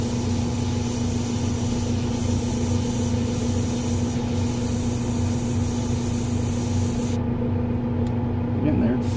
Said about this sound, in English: I got my airbrush in here to get these little stitches.